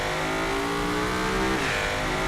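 A loud video game car engine revs hard in a sustained roar, its pitch shifting partway through, with no voices.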